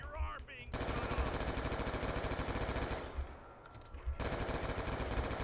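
Rapid assault rifle fire in Black Ops 2 Zombies, a dense continuous automatic burst that briefly thins then resumes, loud and close, with a voice heard faintly at the start.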